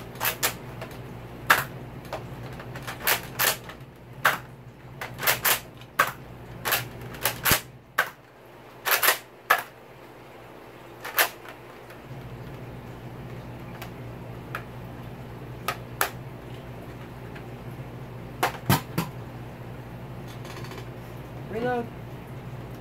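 A Nerf Accustrike Raptorstrike blaster is reloaded, giving sharp plastic clicks and clacks in irregular close bursts, some in quick pairs, over a quiet room hum.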